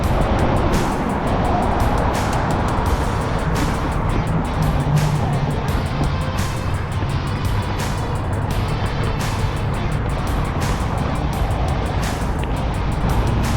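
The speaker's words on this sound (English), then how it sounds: "there's a little bit less traffic than usual" Steady road traffic rumbles at a street crossing for the whole stretch, a continuous wash of passing cars and tire noise with faint ticking on top and no clear gaps.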